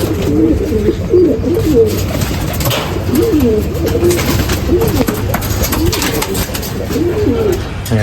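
Pigeons coo repeatedly in soft, rolling phrases, several birds overlapping against a steady background hum, with no talking.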